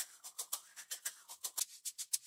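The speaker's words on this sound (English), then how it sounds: "Let's start with the shaker loop." Shaker loop from an amapiano beat built in FL Studio: a quiet, bright rhythmic pattern of short, even hissy hits, steady and alone with no talk.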